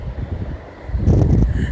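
Wind gusts rising through trees outdoors, a low rushing roar that swells louder in the second half and stays steady, with no voices.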